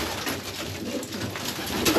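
Young racing pigeons coo steadily inside a loft, a dense murmur of overlapping soft calls close by, continuous and moderately loud without any talking.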